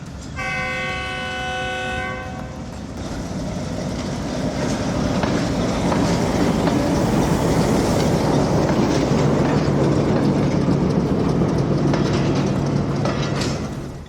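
A goods train with multiple locomotives passes close on a railway track near Lahore station, opening with a loud horn blast, then a sustained roaring rumble of engines and clattering wagons that builds and stays loud.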